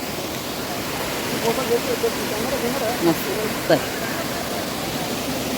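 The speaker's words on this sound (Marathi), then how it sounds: "हा आहे धबधबा" A steady, loud roar of Akole waterfall in Palghar district during the monsoon fills the air, broad and constant, with a few faint voices barely rising above it.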